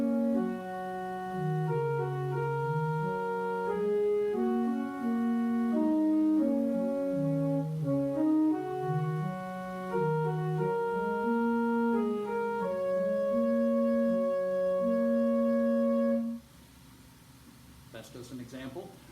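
Keyboard improvisation played only on the black notes, a flowing right-hand melody over single sustained left-hand notes, steady and clear for about sixteen seconds before stopping, followed by faint rustling.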